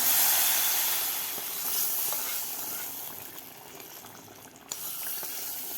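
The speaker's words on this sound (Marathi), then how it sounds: "आता या भाजीमध्ये तडका घालून घ्यायचा आपल्याला" Hot tadka tempering hits a thin Marathi-style fenugreek curry, raising a broad, steady sizzle and hiss that eases slightly over several seconds, with a small clatter near the end and no voices.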